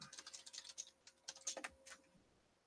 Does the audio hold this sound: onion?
no